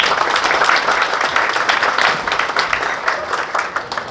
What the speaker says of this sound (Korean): 다시 한번 위성락 국회의원님께 따뜻한 박수 부탁드리겠습니다